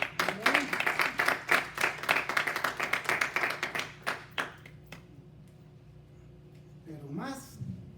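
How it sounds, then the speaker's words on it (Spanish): A church congregation claps for several seconds in distinct, fairly loud beats that taper off, followed by a quieter stretch with a brief voice near the end. "¿Cuánto le damos un aplauso al Señor?"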